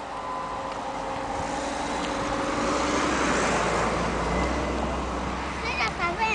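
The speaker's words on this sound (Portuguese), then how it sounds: "Olha o carro, Camila." A car passes along a road at dusk, its engine and tyre noise swelling to a peak midway and then fading, while people talk over it.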